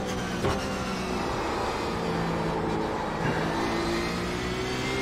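Porsche 911 RSR race car engine in iRacing, accelerating at Spa during multi-class racing, a steady, continuous mid-pitched engine drone with rising tones and no pauses throughout.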